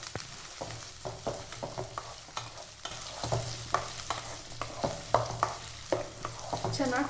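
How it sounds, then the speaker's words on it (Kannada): Chilies, curry leaves, garlic and onion frying in oil for a greens sambar, a moderate crackling sizzle broken by repeated spoon scrapes and stirring taps at a steady pace. "ಮೆಣಸಿನ್ಕಾಯಿ, ಕರಿಬೇವಿನ ಸೊಪ್ಪು, ಬೆಳ್ಳುಳ್ಳಿ, ಈರುಳ್ಳಿ ಎಲ್ಲದು ಚೆನ್ನಾಗಿ ಎಣ್ಣೆಲಿ ಫ್ರೈ ಆಗಬೇಕು."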